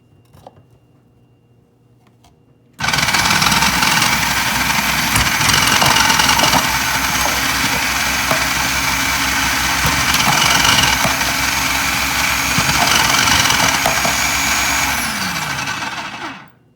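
A Black and Decker food processor runs steadily with a loud, close motor whine while halved red and white vegetables are pushed through its feeder chute, starting abruptly after a quiet moment and cutting off near the end.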